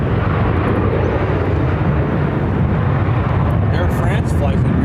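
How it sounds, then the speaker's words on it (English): A Southwest Airlines airliner on arrival from San Antonio at Phoenix airport roars steadily as a loud, broad jet rumble, with voices talking over it. "This is Southwest Flight 2566 coming in from San Antonio"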